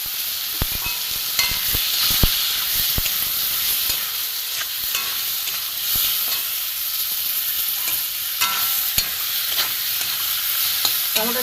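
Raw tomatoes fry with turmeric for mung dal, producing a loud, steady close-up sizzle with sharp spattering pops and occasional stirring scrapes, and no one speaking.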